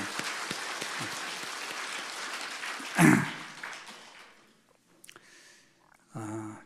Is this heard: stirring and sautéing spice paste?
no